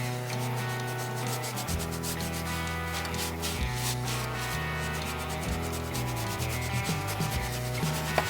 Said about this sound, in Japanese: このスポンジでこう軽くこうシコシコシコシコシコシコ